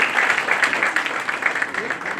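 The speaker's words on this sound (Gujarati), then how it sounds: "ફરીથી જોરદાર 3 વાર તાળી." Audience applause in a hall, dense clapping pulsing in a rough rhythm of bursts, steady and fairly loud.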